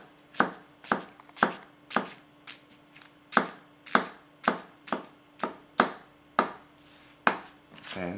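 Masakage Koishi 270mm gyuto knife chopping through onion halves on a cutting board, a steady run of about fifteen crisp, closely spaced chops with no talking.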